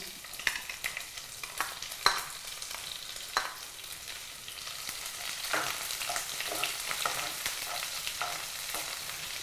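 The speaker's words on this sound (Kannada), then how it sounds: "ಈರುಳ್ಳಿ ಈಗ ಚೆನ್ನಾಗಿ ಫ್ರೈ ಆಗಬೇಕಾ" Onions frying in a pan, a steady hiss with scattered scraping clicks of a ladle stirring them, fairly quiet and close with no voices.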